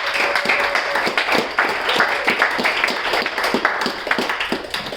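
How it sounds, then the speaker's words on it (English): An audience at a speakers' club evening applauds the two co-founders, producing a dense, even patter of clapping that runs steadily throughout at moderate loudness. "So I would like to take the opportunity for an applause for these two."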